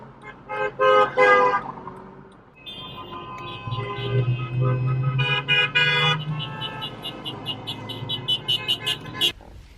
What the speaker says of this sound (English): I just hear all the honking of everyone just honking because of these signs over here.